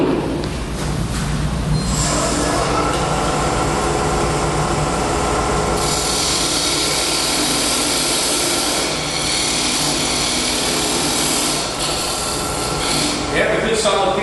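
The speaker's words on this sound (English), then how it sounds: "now I need to make my tenon to fit in the chuck jaws" A wood lathe spins a piece of wood while a tenon is cut, a loud steady whirring drone with gritty tool scraping layered over it, continuous throughout, with a person talking over the noise.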